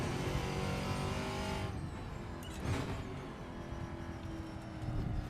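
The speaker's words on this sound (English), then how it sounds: "nice roaring V8." A TA2 race car's V8 roars steadily in Assetto Corsa, a continuous engine drone that shifts pitch as it accelerates and passes, with no talking.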